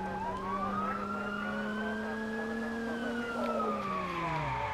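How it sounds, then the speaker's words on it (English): Police car siren in the Watch Dogs video game, a loud continuous wailing tone that slowly rises and falls over a steady engine rumble, close and unbroken. "Gotta put the siren on"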